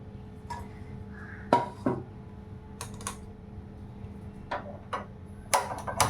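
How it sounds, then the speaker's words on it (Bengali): A metal wok (kadai) is set onto a gas stove while preparing dahi potol, producing a few sharp clanks and clicks spaced apart over a quiet kitchen background. "কড়াটা বসিয়ে দিচ্ছি"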